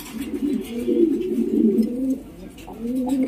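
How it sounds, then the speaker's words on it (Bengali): A caged pair of pigeons coos close by in low, throaty, rolling phrases, pausing briefly before cooing again. "একজোড়া বাগা পুরান বেলাডের কবুতর দেখতে পাচ্ছেন"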